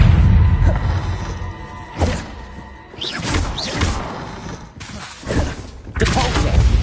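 Bombarda spell blasts in Hogwarts Legacy, heavy thumping explosions hitting in a loose series of separate impacts, loud and close, mixed with other spell effects and some speech.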